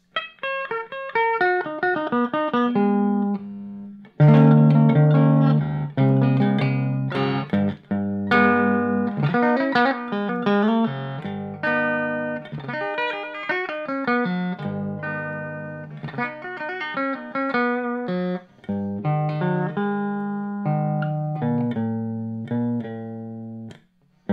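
Electric guitar played through a Kustom PH1012 amplifier with a bright, trebly tone, a continuous melodic solo of quick picked notes and sustained bends, loud and close with no talking.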